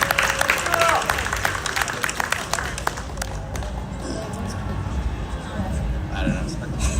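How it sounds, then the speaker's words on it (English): A crowd at a Sonic fan event claps for a question from the audience, with brisk applause mixed with crowd chatter that thins into background murmur and rustling. "Yo, round of applause for the question, and please come get your prize."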